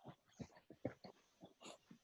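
A pet dog whimpering and yipping softly indoors in a room, a string of short, faint whines and small squeaks in quick irregular succession, with no talking.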